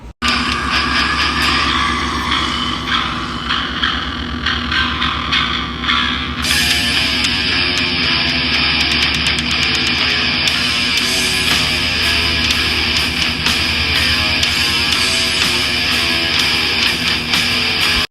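Dense, relentless death metal with blasting drums, heavily distorted guitars and a wall of low-end, loud and continuous throughout with no pauses.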